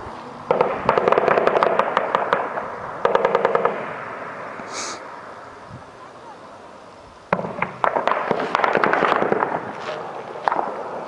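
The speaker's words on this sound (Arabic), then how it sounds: "قصف على قرية الرامي جبل الزاوي" Bursts of machine-gun fire during the shelling of a village in Jabal al-Zawiya, Idlib, in 2012. Rapid crackling volleys come in two groups, separated by a quieter lull with distant background noise.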